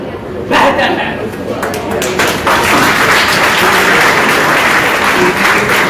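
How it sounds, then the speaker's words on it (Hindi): Loud applause from an audience at a Hindi fair college stage event, a dense burst of clapping that swells after a brief start and continues steadily, with a chuckle and some voices mixed in. "जोरदार तालियां इनकी प्रस्तुति के लिए।"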